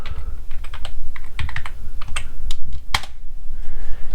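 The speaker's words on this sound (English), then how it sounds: "We type in our password." Someone types a password on a computer keyboard during a macOS Mojave installation on a Mac Pro, a close, crisp run of uneven key clicks ending with a firmer keystroke.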